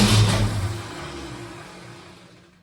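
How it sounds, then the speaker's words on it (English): Starter cranking the engine of a 1963 Ford Falcon Sprint with a newly installed carburetor, a steady low mechanical churn that is loudest at the start and slowly fades over a few seconds, close by and with no voices. "let the engine turn and pump fuel up into the carburetor"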